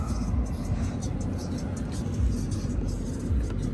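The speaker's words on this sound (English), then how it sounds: "That is a truck." A truck rolls past on a road during Hurricane Ida, a steady loud low rumble of engine and tire noise heard from inside a moving Mercedes S550 4Matic.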